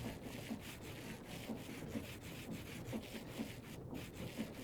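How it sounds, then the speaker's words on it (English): Diamond sandpaper rasps across a block in the Minecraft Create mod, a rhythmic scraping that repeats about twice a second at an even pace, with no one talking. "I made diamond sandpaper too, so it lasts longer."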